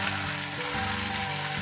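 Tomatoes and green chillies cook in a covered pan with a steady, dense sizzle that holds at an even level throughout, with no voices.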